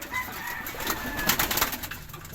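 Racing pigeons coo softly at a pigeon loft, a few low murmuring calls near the mic over faint background noise.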